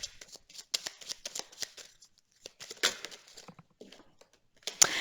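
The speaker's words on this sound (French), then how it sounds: "Allez, je tirerai aussi encore une carte." Tarot cards are handled and drawn from a deck, giving quiet, scattered papery flicks and shuffles in irregular bursts with near silence between them.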